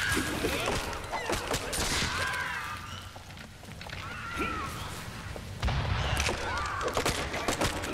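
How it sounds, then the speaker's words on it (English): Blunderbuss blasts from a skeleton queen's side in the Hand of Fate card-battle game, landing as several sharp booming shots over a dense, continuous bed of combat effects and music. "And she has a blunderbuss, not just a rifle"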